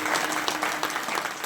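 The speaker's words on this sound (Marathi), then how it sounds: "या मंडळाकरता पुन्हा एकदा जोरात टाळ्या वाजवा" An audience at a Marathi mandal gathering applauds loudly, a thick steady roll of many clapping hands.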